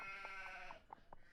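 Short sheep bleats in the video game Nancy Drew: The Haunting of Castle Malloy, a few in quick succession, over a steady synthetic musical background with a game-like, electronic quality.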